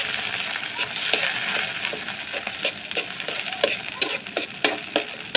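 Chopped tomato tipped into onions frying in a pan for a hilsa fish recipe, giving a run of soft wet crackles, taps and splashy sizzle bursts that grow busier toward the end.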